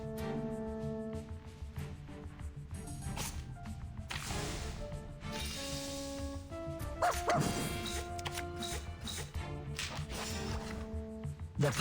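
A puppy barks in the video game Reverse 1999, several short yaps and whimpers heard over steady background game music, with clear tonal layers throughout.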